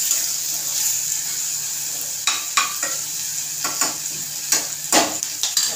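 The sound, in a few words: peanuts frying and being stirred in oil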